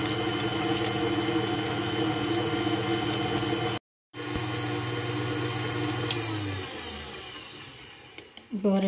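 Electric mixer beating butter cake batter at high speed: a loud, steady motor whine with a brief cut partway through, then it winds down and stops, leaving a few faint knocks and clatter.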